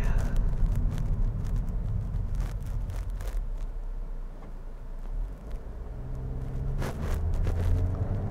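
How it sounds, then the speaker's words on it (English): A 2014 Toyota Corolla drives over road bumps, giving a steady low cabin rumble with a few soft thumps, close and even throughout. "So, got some bumps right here, and Corolla's just soaking them right up"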